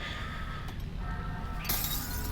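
Glass or another breakable object shatters in Half-Life: Alyx, a single bright crash near the end over a steady low in-game ambient hum.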